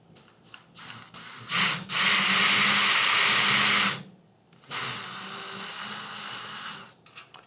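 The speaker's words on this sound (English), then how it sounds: "And I'm going to have to drill a pilot hole." A power drill whirs loudly in two sustained bursts with a short pause between, drilling a pilot hole for a motorcycle trailer wheel chock, close by, with brief trigger taps at the start and end.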